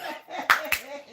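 Two quick, sharp hand claps land close together, loud and close, over a person's ongoing speech.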